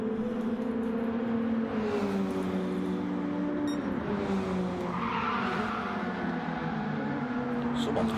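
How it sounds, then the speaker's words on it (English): Tires squeal and skid as a racing car is thrown sideways on the handbrake during a P1RC race, a long wavering screech over steady engine drone, with a voice talking across it. "Someone's loving the handbrake."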